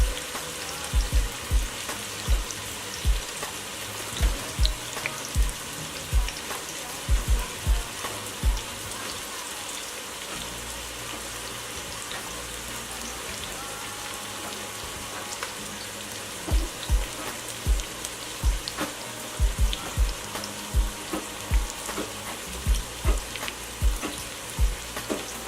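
Jalapenos frying in a pan of homemade spaghetti meat sauce, a continuous crackling sizzle with scattered louder pops and occasional stirring knocks, close up and without talk.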